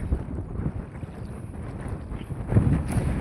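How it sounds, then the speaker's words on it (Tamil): Strong wind gusts buffet the microphone outdoors by the water while algae is gathered from a farming pond, a steady low roar with a louder gust near the end, no speech. "காற்று ரொம்ப அதிகமாகவே இருக்குங்க"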